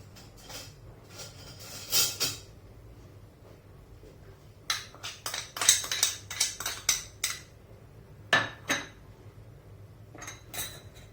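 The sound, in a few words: frying pan being placed and handled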